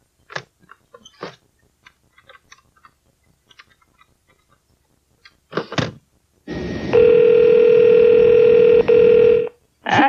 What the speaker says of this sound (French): Appelons Sœur Lucia